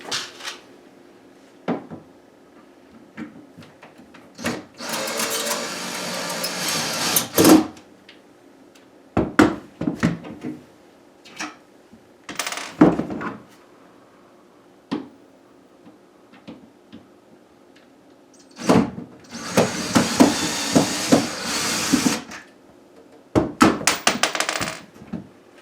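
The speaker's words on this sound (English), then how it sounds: "We're going to take our other doors out as well." Wooden kitchen cabinet doors being taken off: scattered knocks, thunks and wooden clatter, with a few longer bursts of rattling and handling noise between quiet gaps, close by and without speech.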